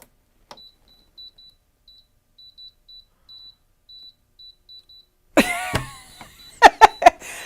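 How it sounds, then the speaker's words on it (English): A faint electronic beep from two HTVront Auto 2 heat presses repeats at a steady pace for several seconds, then clattering handling noises and a few sharp knocks follow close by. "They're both beeping at me."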